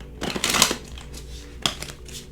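A deck of cards is shuffled in two quick riffling bursts, a longer flutter followed by a shorter one, close and fairly quiet.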